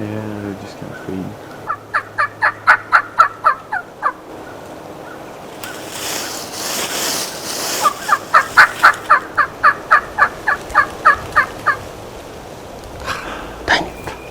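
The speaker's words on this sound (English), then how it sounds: "Got this turkey being a daggum jerk in this field with these hens." A wild turkey in a field with hens gobbles in two loud, rhythmic runs of quick repeated notes. A burst of rushing, wind-like noise separates them, and one more short call comes near the end.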